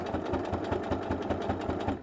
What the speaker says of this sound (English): We are going to take it to the machine. We are going to sew from the bottom here